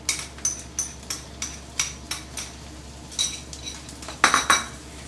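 A metal spoon clinks and scrapes against a pot as salt, black pepper and garlic are stirred into sausage for gravy, a steady series of close taps with a couple of louder knocks near the end.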